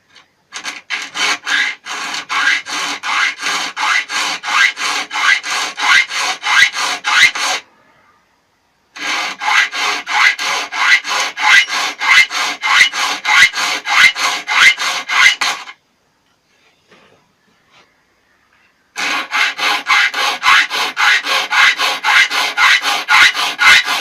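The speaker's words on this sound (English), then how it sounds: "we're definitely going to sharpen this saw to see how well we can get it to saw" A file rasps rhythmically across the teeth of a rip saw being sharpened, steady back-and-forth strokes in three long runs separated by short pauses, close and loud with no talking.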